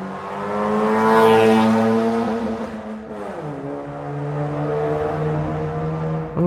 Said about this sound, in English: You making all that noise, mind you, that's a car.